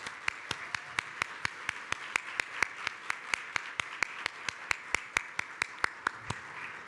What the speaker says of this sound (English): we'd love to give you a round of applause if you want to stand